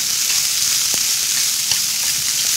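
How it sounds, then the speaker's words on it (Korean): Shishito peppers with small holes poked in them stir-fry in a hot pan, giving a steady close sizzle with a few soft scraping stirs over its short span. "꽈리고추도 살짝 볶아줘야지 더 쫄깃한 식감이 좋아요."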